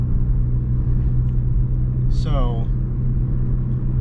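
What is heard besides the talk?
car driving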